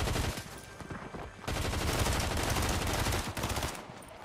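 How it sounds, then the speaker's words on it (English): Sustained machine gun fire from a Fortnite match, loud and dense, with a brief lull near the start before a long continuous burst, set against busy game ambience. "A machine gun."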